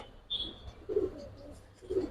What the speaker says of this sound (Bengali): একটা ফাইটার নর চুন্নু ভাইয়ের ফাইটার কবুতর